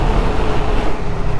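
A CFMOTO CLX 700 motorcycle engine produces a loud, steady, grunty low drone while riding, heard alone over a short stretch.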